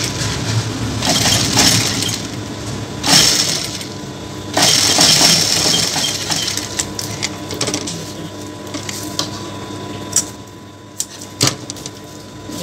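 A sewing machine stitches along the edge of a padded blouse piece, giving a run of mechanical whirring and clattering with a few sharper knocks and pauses between bursts. No one speaks.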